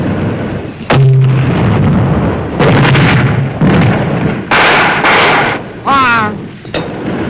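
Artillery guns fire on command in a WWII rifle platoon exercise, with several heavy booms spaced a second or so apart, each cutting across shouted voices and loud ambient noise.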